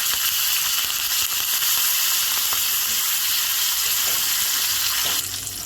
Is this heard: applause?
no